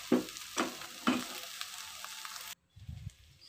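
Tempeh frying in a small amount of oil in a non-stick wok, with steady close sizzling and a few sharp stirring clatters before the sound briefly cuts and resumes more softly.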